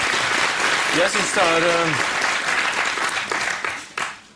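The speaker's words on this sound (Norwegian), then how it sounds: "Ja, det var deg de klappet for." A TV talk show studio audience claps in a burst of applause, close and loud, with someone speaking Norwegian over and after it as the clapping fades.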